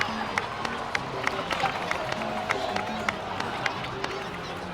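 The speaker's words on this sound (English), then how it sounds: "please give another round of applause for them." A crowd in Genshin Impact cheers and claps in a steady, lively wash of noise, with sharp scattered claps standing out and a murmur of voices underneath.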